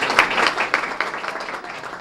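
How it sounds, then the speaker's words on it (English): A short burst of applause from a small group at a student of the month award, fairly close, with scattered claps fading toward the end. "Let's give him a round of applause."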